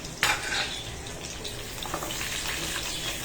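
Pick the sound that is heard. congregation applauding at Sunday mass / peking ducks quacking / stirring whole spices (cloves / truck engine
stirring whole spices (cloves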